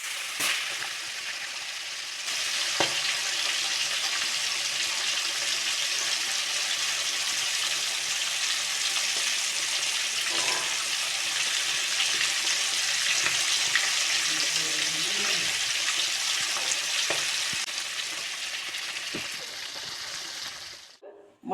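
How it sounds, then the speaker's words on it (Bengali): Small fish (sarputi) frying in hot oil, a loud, steady, close sizzle that holds for about twenty seconds, with a few faint clicks and knocks beneath it. "এবার আমি বাকি মাছগুলো ভেজে নেব।"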